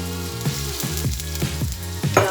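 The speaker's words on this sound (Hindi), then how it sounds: "इसको ब्राउन होने तक हमने फ्राई करना है लहसुन को ऑयल में" Garlic ginger paste frying in hot oil for daal mash, a steady close sizzle with light stirring scrapes throughout, no talking.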